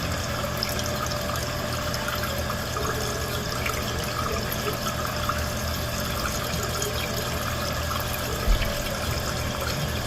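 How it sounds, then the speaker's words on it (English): Water from a running toilet spills steadily over the tank's standpipe while the float has not yet risen, a constant low rush and trickle that stays even and fairly faint throughout, with one small knock near the end. "You can see the water's running over the standpipe and the float has not come up yet."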